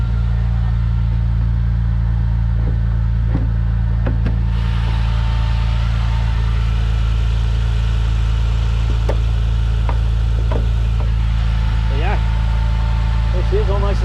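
Vauxhall Vectra VXR fitted with a hybrid turbo idles close by with a steady, smooth low drone throughout, while people talk over it and a few light knocks come and go.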